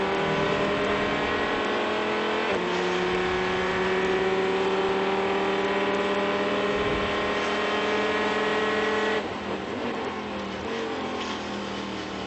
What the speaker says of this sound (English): Got to like that big banger motor